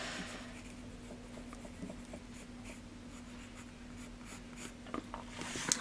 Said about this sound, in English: I'm going to draw around it just for now so that you can see where it finishes.